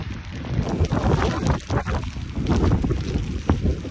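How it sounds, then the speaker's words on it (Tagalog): Strong gusting wind during a heavy rainstorm in Chilliwack, British Columbia, buffeting the microphone in loud, uneven bursts that swell and drop every second or so. "Ang lakas pa ng hangin."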